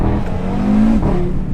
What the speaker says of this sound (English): And sounds like an Audi Sport Quattro from back in the day.